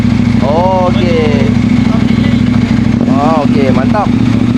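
A KTM motorcycle engine runs steadily close by, its low idling drone continuous throughout while people talk over it.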